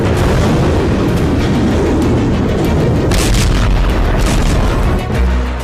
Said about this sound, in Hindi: ताबड़तोड़ बम धमाका